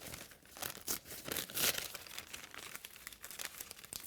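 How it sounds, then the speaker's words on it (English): Rice paper torn by hand for decoupage, a run of crisp, papery ripping and crinkling bursts at close range, rising and falling in irregular strokes with no voices. "when we rip the rice papers, we get a lovely feathered edge. So we can go round and tear"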